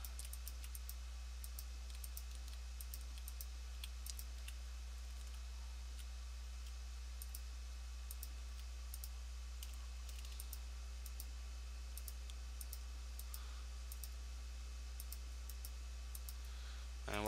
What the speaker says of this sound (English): And what I'm doing is shift clicking there.